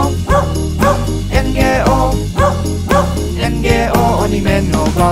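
Dog barks punctuate a Czech children's song about a farmer's dog, landing in a regular rhythm over bouncy accompaniment while a voice sings along.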